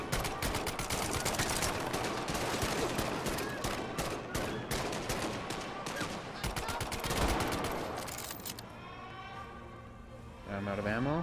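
PU-38 pistol fire in the VR shooter Medal of Honor: Above and Beyond: rapid, repeated shots in dense volleys that thin out toward the end, with someone talking over the shooting.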